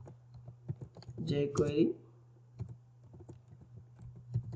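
Computer keyboard typing into a Google search box: a quick run of light, close clicks with a brief spoken word in the middle, against a steady low hum.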